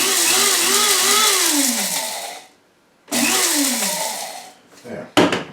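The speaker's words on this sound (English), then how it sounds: "I'm going to put the fennel seeds in a spice grinder." A spice grinder breaks up a small batch of large fennel seeds for bread dough, whirring loudly with a rising and falling motor pitch in two bursts separated by a short pause, then stopping.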